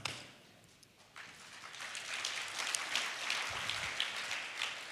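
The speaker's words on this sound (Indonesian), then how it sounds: "Ini udah paling maksimal, tepuk tangannya untuk Tuhan" A church congregation at a Sunday service applauds for God, quiet at first, then swelling into a steady patter of many hands clapping at a moderate distance.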